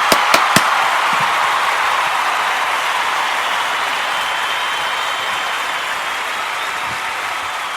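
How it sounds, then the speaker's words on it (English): A round of applause for Captain Tom, opening with a few sharp separate claps and then settling into a steady, even wash of clapping that sounds broad and hissy, continuing without voices. "Let's do a round of applause for you."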